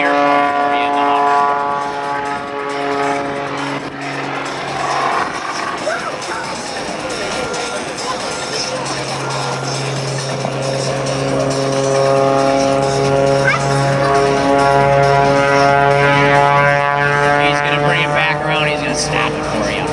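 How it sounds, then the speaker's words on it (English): An ethanol-powered helicopter hovering at an air show at Andrews Air Force Base, its loud steady rotor and turbine drone holding a constant whine throughout, with a spectator or announcer talking over it. "the Fagen ethanol-powered helicopter. Wow, look at that. Now he's got the hover down."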